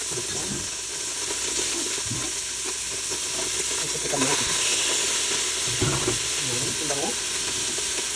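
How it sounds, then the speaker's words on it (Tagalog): Tomato sautés in oil with garlic and onion for a monggo dish, a steady close sizzle and hiss with scattered stirring scrapes and clinks throughout. "Ayan, lagay natin si kamatis."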